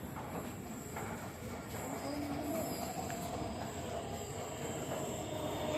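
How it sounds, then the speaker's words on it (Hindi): Delhi Metro Magenta Line train pulling into a station, a steady loud rumble of wheels and motor with a faint high squeal, continuous and close, with no talk. "यहाँ पर पहले से ये वाली लाइन की मेट्रो आ रही है। ये मैजेंटा लाइन है,"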